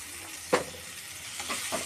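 Tomato masala with a little turmeric powder being stirred in a pan, a soft sizzle with a couple of brief scrapes of the spoon, short and fairly quiet.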